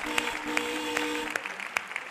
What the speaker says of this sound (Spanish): así que un aplauso también